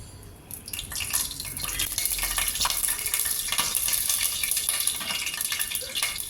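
Whole spices, including two pieces of cinnamon, sizzle in hot oil for a country chicken biryani, making a steady close crackle and hiss throughout with no voices.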